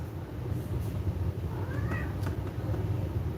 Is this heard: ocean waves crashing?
no